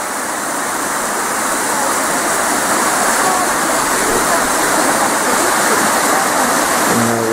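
A waterfall at a river crossing near Cape Leeuwin, at the Cascades, roars steadily and close by as a dense, unbroken rush of falling water with no pauses.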